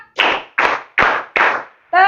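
Students in a classroom clap hands in a steady rhythm: four sharp, close claps evenly spaced, followed by a brief voice at the end.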